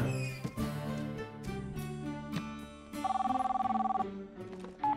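A cell phone rings in a children's horse cartoon, a trilling electronic ringtone repeating in bursts over a lively musical score.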